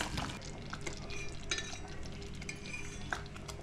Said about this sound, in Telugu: జాగ్రత్తగా కలుపుకుంటూ ఉండాలి.